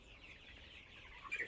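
Broiler chickens on a poultry farm clucking faintly in the background, soft overlapping clucks and calls rising slightly toward the end of a short, quiet stretch.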